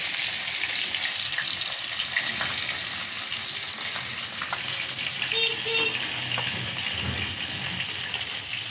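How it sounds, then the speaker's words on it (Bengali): Fish frying in a pan, a constant crackling sizzle with occasional clinks and a soft thud near the end, no voices. "তো দেখো কর্তা মাছ ভাজছে"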